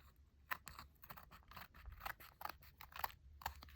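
Scissors cut paper for a collage in close, quiet, irregular snips and crunchy scrapes, each blade closing as a short crisp click spaced unevenly over a few seconds.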